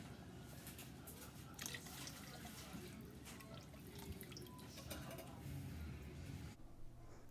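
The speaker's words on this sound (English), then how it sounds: "and then I'll add some water." Water is poured into a soup pot while making tomato soup, a faint running and dripping trickle that carries on for several seconds before cutting off near the end.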